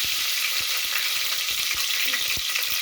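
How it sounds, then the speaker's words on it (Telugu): Mustard seeds splutter in hot oil during tempering, a dense continuous sizzle peppered with sharp pops and crackles, close and loud with no talking. "ఇప్పుడు ఆవాలు చిట్టపట్టమంటున్నాయి కదా"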